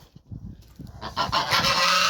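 Geese honk loudly and repeatedly, with a harsh chorus building after a quieter start of softer calls and rustling.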